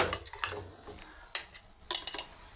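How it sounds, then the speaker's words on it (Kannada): Boiled raw mango is mashed in a pan, with quiet, irregular scrapes and sharp clinks of a utensil against metal in short bursts close by. "ಇದಕ್ಕೆ ನಾವು ಬೇಯಿಸಿಕೊಂಡ ಈ ಮಾವಿನಕಾಯಿಯನ್ನು ಚೆನ್ನಾಗಿ ಅದನ್ನು ಸ್ಮ್ಯಾಶ್ ಮಾಡ್ಕೋಬೇಕು"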